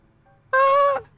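A single clear, loud cat meow from the Minecraft video game, a bright tonal cry lasting about half a second over a faint quiet background.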